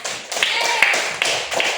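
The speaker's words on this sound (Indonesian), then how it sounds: "tepuk tangan dulu untuk dia" Primary-school children in a classroom clap for a classmate, a quick burst of close, sharp hand claps with uneven rhythm, fairly loud, with a voice faintly mixed in.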